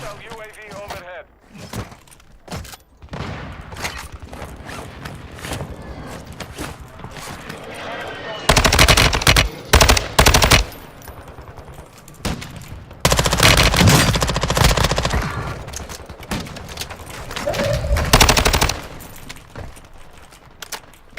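Automatic fire from a Bas-P submachine gun in Warzone 2 comes in loud, dense bursts, two long sustained volleys and a shorter one, separated by quieter gaps with scattered shots and someone talking excitedly.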